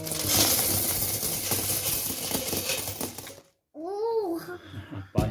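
Coins from a full savings box pour and clatter in a dense, continuous jingle for several seconds, then stop; children's excited voices follow.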